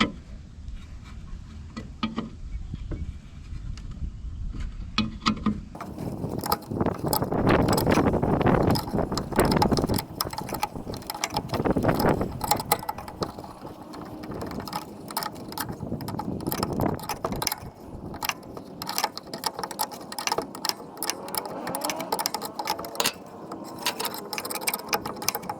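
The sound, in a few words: 14mm spanner undoing a Rover mower blade nut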